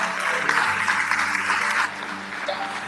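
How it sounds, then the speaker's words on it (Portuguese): A church congregation claps for the Lord during a Portuguese-language worship service, a dense, sustained burst of applause filling the room over a low background of music or voices, easing slightly toward the end. "dá um aplauso ao Senhor"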